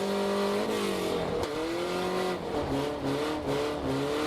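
A drift car accelerates on a track during a drift competition. Its engine revs loudly and continuously, with the pitch repeatedly climbing and dropping as the throttle is worked.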